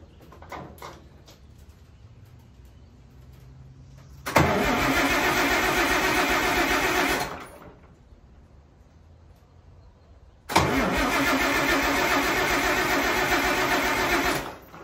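An old Farmall 656 tractor engine that may be short of fuel is cranked twice, each loud, steady mechanical churn lasting about three seconds before cutting off into quiet.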